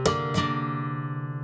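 A flamenco guitar plays a short bulerías phrase: two sharp percussive golpe strikes on the down strum with an upward flick, followed by a ringing chord that sustains and fades, close and alone.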